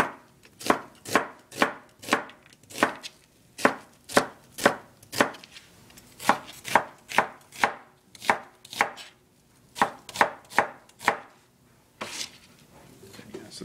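A knife chops a small onion on a board in steady bursts of sharp, close taps, about two dozen strokes in quick runs with short pauses between, no one talking.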